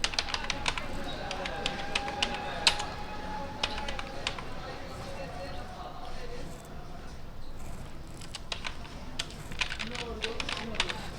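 Irregular bursts of keystrokes on a computer keyboard typing a title, light clicks coming in quick runs with short pauses, under a soft background hum.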